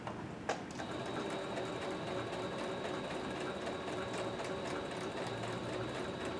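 A sewing machine stitching a fabric mask runs in a steady, fast mechanical whir with a continuous needle rhythm after a brief click at the start, close and alone.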